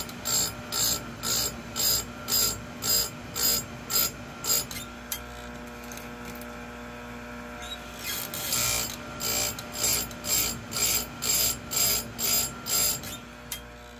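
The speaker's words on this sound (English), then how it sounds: "just advance this forward just a little bit and take another round with them" A file sharpens the chain teeth of a Stihl MS311 chainsaw in steady rhythmic strokes, close and crisp, in two runs of about a dozen rasping passes separated by a short pause.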